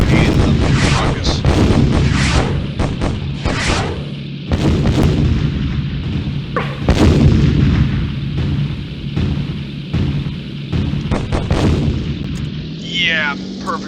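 Anti-aircraft flak fire in the Pearl Harbor flight game Beyond Pearl Harbor Pacific Warriors, heard as dense, loud, continuous booms and gunfire bursts over engine drone, with a voice talking over it.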